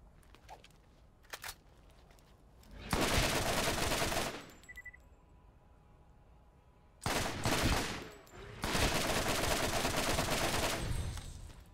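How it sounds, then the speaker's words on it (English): Two long, loud bursts of sustained machine gun fire in the video game Borderlands, each lasting over a second, separated by a quieter stretch with a few isolated shots and small game noises. "That machine gun."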